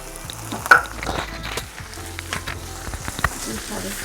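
Tomatoes and masala frying in a pan for a malai kofta gravy, stirred with soft scraping and a steady low sizzle, one louder clack near the start, close and moderately quiet with no talk.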